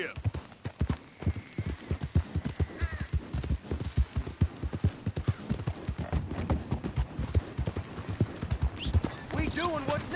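Horse trotting in Colorado after being urged on, a steady close clip-clop of hooves in a quick even rhythm, with a brief whinny and people talking over it.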